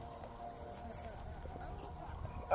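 Horse hooves clip-clop quietly in an even rhythm on a dusty trail during a stable horseback ride, while people talk over them.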